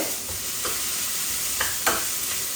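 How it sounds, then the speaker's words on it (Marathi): Cumin, mustard seeds, curry leaves, onion and capsicum fry in a small pan, a steady close sizzle with a few scraping stirs of the spoon, alone without talk. "एका छोट्या पॅनमध्ये मी जिरे मोहरी कढीपत्ता कांदा आणि शिमला मिरची छान परतून घेते"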